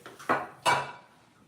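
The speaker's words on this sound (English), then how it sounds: "Ooh, I'm going wild with the whisk." A metal whisk knocks twice against a mixing bowl in a home kitchen during Christmas cooking: two sharp, bright clinks about a third of a second apart, with a short ringing tail, close and fairly loud.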